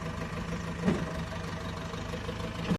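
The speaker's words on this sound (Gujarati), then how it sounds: "અમારું ટ્રેક્ટર આવ્યું છે તે ઠલવાય છે" A steady tractor engine drones at idle throughout while unloading on a farm, a low mechanical rumble with a couple of brief louder knocks, no voices.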